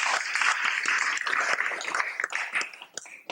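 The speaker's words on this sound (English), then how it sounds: "Kindly give her a big round of applause" A room of devotees at a Dallas Vyasa Puja gathering for Tamal Krishna Goswami gives a round of applause, a dense flurry of hand claps with a fluttering, uneven rhythm.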